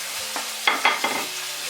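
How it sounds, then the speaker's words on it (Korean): Cooked shrimp go into a pan of spicy garlic tomato pasta sauce with capers, setting off a soft steady sizzle with a few sharper stirring scrapes close by. "이제 새우를 넣고요. 아까 익었던 새우를 넣고요."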